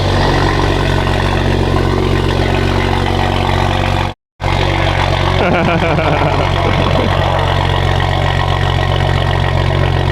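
A car with an aftermarket exhaust idles with a loud, steady low rumble, cutting out for a brief instant before resuming; people talk close by over the engine.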